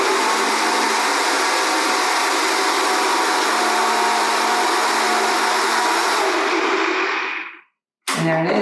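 A blender whirs steadily and loudly as it mixes a chocolate peanut butter smoothie with ice, holding one even roar for about seven seconds before cutting out abruptly.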